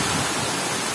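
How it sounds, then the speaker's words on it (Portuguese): Dense, steady rush of rainwater pouring down like a waterfall, loud and close, a continuous hiss with no voices over it. "Já virou uma cachoeira ali, ó."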